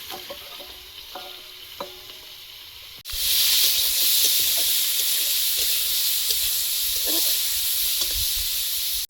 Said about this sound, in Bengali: কড়াইতে অল্প একটু তেল দিয়ে চিংড়িটা ভেজে নেব।